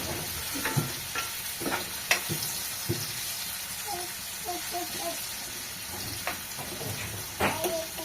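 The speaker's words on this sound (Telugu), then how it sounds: "టమాటా ఫ్రై అయిపోయింది కానీ పచ్చిమిరపకాయలు ఫ్రై కాలేదు ఇంకా ఫ్రై అవుతుంది" Green chillies and tomatoes fry in a pan with a constant, close sizzle. Spoon-stirring scrapes and clinks break through it now and then, and a voice speaks faintly underneath.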